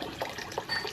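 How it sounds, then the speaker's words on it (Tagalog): Water pours into a cooking pot for pinakbet, a steady close trickle and splash lasting about a second with small gurgling bursts. "lagyan ko muna ng tubig"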